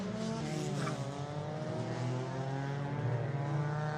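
Mini Cooper race cars on the green flag lap at Knockhill circuit, a steady, loud, droning chorus of engines passing close together without speech.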